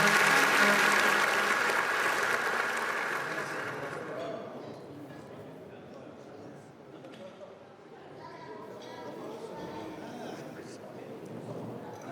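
Wedding guests clap in a burst of applause that fades away after a few seconds, leaving quieter room noise and faint murmuring voices behind.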